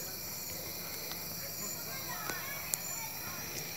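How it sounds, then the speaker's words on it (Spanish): Crickets and cicadas trilling at night outdoors in Quevedo, a continuous high, faint shimmer of insect calls layered over a quiet background, with a few small ticks and clicks but no talk. "Solamente se escuchan los ruidos nocturnos de siempre, grillos, cigarras"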